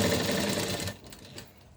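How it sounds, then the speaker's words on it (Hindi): Sewing machine stitching along a folded fabric edge, a steady close whirring run that stops partway through and leaves quieter handling noise. "यहाँ पे लगाएंगे हम लोग सिलाई"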